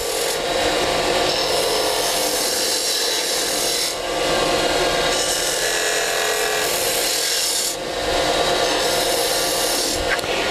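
A cutting tool shapes a cove in wood spinning on a lathe, giving a loud, continuous rasping scrape close up, surging in long passes with brief dips between strokes and no talk.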